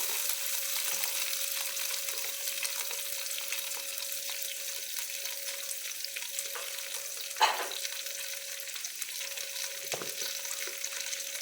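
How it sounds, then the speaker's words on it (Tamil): Onions sautéing in a pan, an even close sizzle holding steady throughout, with a couple of brief utensil knocks partway through and no talking. "வெங்காயம் போட்டு நல்லா வதங்க விட்றோம்"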